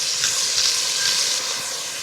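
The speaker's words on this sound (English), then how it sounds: "we're just going to let that go for just a bit so we can turn them over and brown all the sides" Chunks of meat for chile verde sizzle steadily in a hot pan as they brown, a continuous close hiss with no voices over it.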